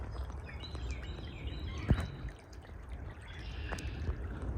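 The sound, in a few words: creek water flowing under rail trail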